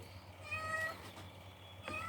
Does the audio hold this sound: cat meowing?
yes